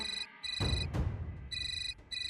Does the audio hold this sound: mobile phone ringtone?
yes